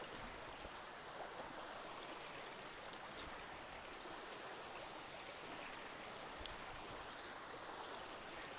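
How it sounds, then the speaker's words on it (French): A small stream of flowing water runs steadily outdoors, a continuous soft rushing and trickling wash at moderate distance, with no voices over it. "À l'image de l'eau qui coule, je ne sais pas si vous l'entendez derrière moi."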